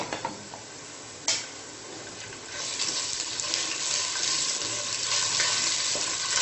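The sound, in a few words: ginger garlic paste frying with browned onions in a pan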